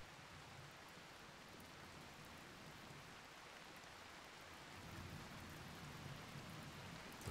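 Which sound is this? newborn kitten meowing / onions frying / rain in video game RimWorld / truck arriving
rain in video game RimWorld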